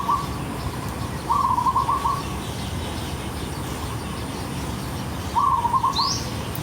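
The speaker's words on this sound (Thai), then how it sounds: "บ้านดิฉันนกเขาชวาเยอะมาก นกเขาชวากับนกเอี้ยง" Short bursts of rapid trills from zebra doves and mynas repeat a few times over a steady outdoor hum, moderately near, with a brief higher chirp near the end.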